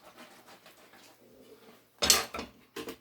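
Marinated tomato, cucumber, onion and olive mix sloshes inside a lidded container over a sink, giving a few short wet shakes and rattles after a quieter stretch of faint rustling.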